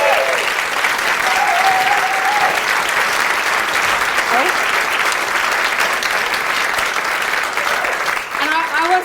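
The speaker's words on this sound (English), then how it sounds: "can we have a massive round of applause for both of them for coming on?" A large crowd gives a massive, sustained round of applause, dense clapping loud and steady throughout with a few cheers and whoops rising over it near the start and end.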